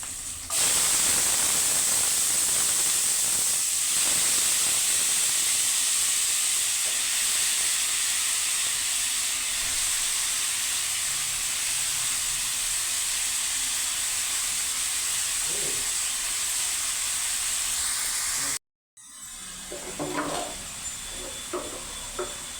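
Chopped bottle gourd sautéing in a pan gives off a steady, even sizzling hiss for a long stretch, then briefly cuts out before faint clinks and a softer sizzle resume.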